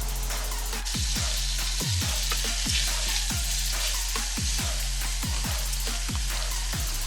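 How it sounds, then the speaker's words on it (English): Beef bulgogi fries in a pan with a steady crackling sizzle, broken by repeated sharp low knocks at irregular intervals, all close and continuous. "Chuck in the pan. We're going to fry that for about 3 minutes"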